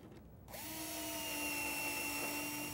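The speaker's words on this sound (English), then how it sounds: "I'm just going to pocket screw it in place." A power drill whirs up and runs steadily, driving pocket screws into a wooden face-frame cabinet, close and continuous after a short quiet start.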